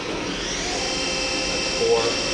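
The spindle of a Hyundai-Wia F650 vertical machining center, a 40-taper CAT machine rated to 10,000 RPM, runs with a steady high whine and rising tones over a low hum, fairly quiet and continuous.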